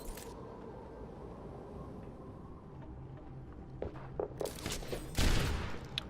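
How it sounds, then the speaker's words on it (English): Gunshots are exchanged in an Overwatch Widowmaker duel: a few sharp sniper cracks and quick footstep-like taps over a quiet ambient bed, the loudest burst coming near the end. "A couple of shots exchanged."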